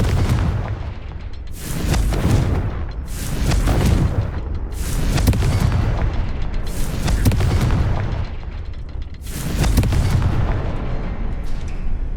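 Repeated blasting-spell explosions in the Hogwarts Legacy video game, about five loud booming bursts spaced a couple of seconds apart over a rumbling game soundtrack, with no talk.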